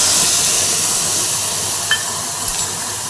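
Ground spice paste for a urad dal curry hitting hot oil with mustard seeds gives a steady, loud broadband hiss and sizzle that runs throughout, with a couple of brief higher crackles near the end.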